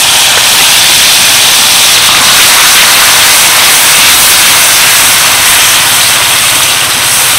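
Two medium chopped tomatoes hitting hot oil with bay leaf and white cumin for a Bengali kakrol curry, giving a loud, continuous, close sizzling hiss that holds steady throughout, alone without talk.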